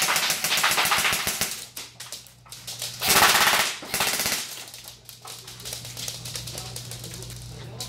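An Ares electric airsoft rifle with a 300-round magazine firing rapid automatic bursts, loud mechanical rattling with a steady motor whine underneath and short gaps between strings; a voice briefly sounds nearby.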